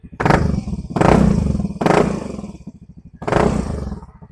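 A Yamaha Fazzio scooter engine with an upgraded, louder exhaust pipe cranks and revs in four loud bursts, its exhaust popping and rumbling with a raspy, throaty roar close by.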